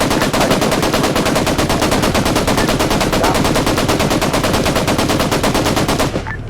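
Sustained automatic fire from a machine gun in a Cold War West German campaign video game, a rapid, unbroken stream of loud shots for about six seconds that stops abruptly near the end, with no voices.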